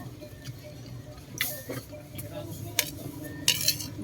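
Cutlery and dishes clink sporadically during a meal of fried galunggong fish and eggplant omelette, with sharp metallic taps standing out over a low background murmur.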